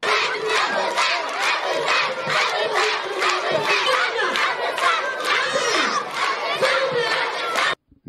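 Crowd of party supporters at a school government installation ceremony in Kédougou, a loud, sustained mass of cheering, shouting and clapping that cuts off abruptly near the end.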